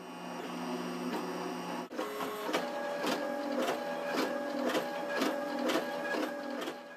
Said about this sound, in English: you can see that the printer's running much faster now that we're done with the first layer.